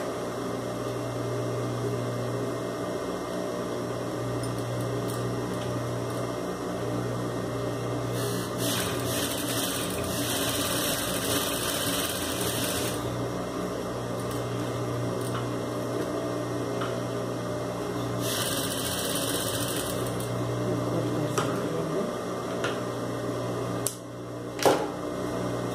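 Electric sewing machine topstitching a simple face mask made of nonwoven TNT fabric: a steady motor hum runs throughout, with brighter bursts of stitching in two stretches.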